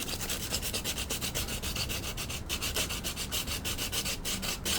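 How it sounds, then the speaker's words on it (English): Rapid back-and-forth rasping of sandpaper rubbing a surface, continuous strokes in a quick steady rhythm, close up and alone. "Now I could sand some of the corners I need."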